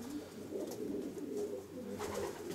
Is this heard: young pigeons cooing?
yes